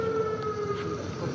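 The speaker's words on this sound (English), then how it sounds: "Okay, I hear sirens, but I think that's cops." Emergency vehicle sirens wail steadily on a city street, a sustained rising tone that sits fairly near over the background street noise.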